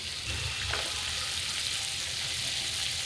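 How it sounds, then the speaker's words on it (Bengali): Carp fish pieces sizzle on fried spice paste in a pan, a close, steady hiss of frying oil that holds evenly throughout. "এখন এই কষানো মশলার উপরে কয়েক পিস মাছ দেব"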